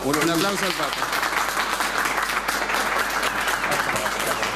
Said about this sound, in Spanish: Un aplauso al Papa.